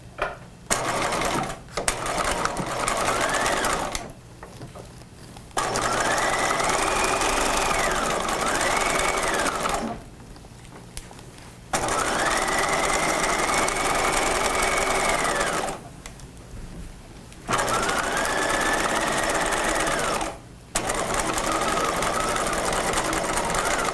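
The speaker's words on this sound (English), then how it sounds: "So we're going to sew this together at 5/8 of an inch and then press it open." A sewing machine stitches a jacket back collar seam at a 5/8-inch allowance in four steady, loud bursts separated by short pauses, with no talk over the whirring.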